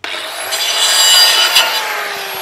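A half-inch pipe being cut to a small piece with a saw, producing one steady, loud, close rasping stroke that runs for about two and a half seconds without pause.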